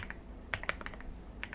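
Rapid keystrokes on a computer keyboard while entering code, light irregular clicks close up over a steady hum of room noise, no voices.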